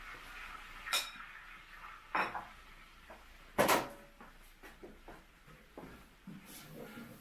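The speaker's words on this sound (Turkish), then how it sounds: "Bir güzel karıştırıyorum." Flour is stirred into melted butter in a pan over low heat, heard as sparse scraping and clinking of a utensil against the pan, with a few louder knocks between quieter stirring.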